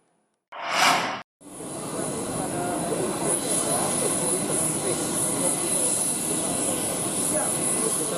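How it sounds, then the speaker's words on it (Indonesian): An Indonesian Air Force Boeing aircraft: steady loud jet engine roar with a high whine, running on after a short burst of sound at the start. "Dengan menggunakan pesawat Boeing milik TNI Angkatan Udara"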